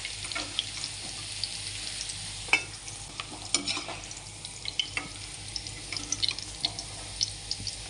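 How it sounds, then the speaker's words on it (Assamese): Cubed paneer frying in a pan, giving a steady low sizzle with scattered clinks and scrapes from stirring, moderately close and without any talking. "এতিয়া কাটি লোৱা পনীৰখিনি ধুনীয়াকৈ ভাজি ল'ম।"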